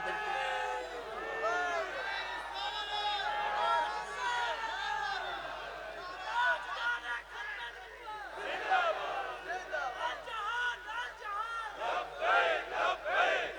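Large crowd roaring a Takbir chant in unison at a religious gathering during a Bayan by a speaker, a dense wall of many voices in repeated surging bursts that carry on loudly and close throughout.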